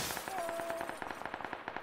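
Rapid automatic gunfire from a video game rattles in a steady run of sharp, evenly spaced shots, loud and close, with a brief tone near the start and no talk.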